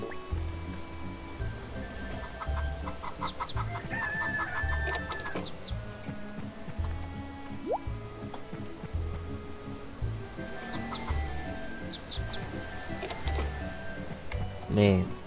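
Chickens cluck and a rooster crows now and then in the Harvest Moon Save the Homeland farm game, repeated bird calls spread through the clip over a busy bed of game sound.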